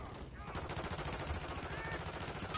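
Fast, faint automatic gunfire in the video game Modern Warfare 3, a dense rattling stream of shots heard in the background of play with some voice chatter.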